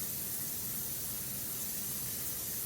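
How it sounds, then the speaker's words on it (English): Cooking spray hisses onto a muffin pan in a continuous, close, steady burst of spray that lasts the whole moment, with no voices. "Now, let's spray up our muffin pan."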